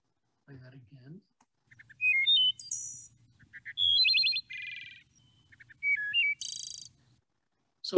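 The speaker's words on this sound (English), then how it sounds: "Here's the wood thrush song played at regular speed" A recorded wood thrush song played back at regular speed: clear, melodic fluting phrases and trills in separate bursts, each distinct and up close, with a faint low hum underneath.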